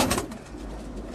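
Pigeons in a loft coo softly and continuously in a brief snippet, low throaty calls overlapping close by without speech.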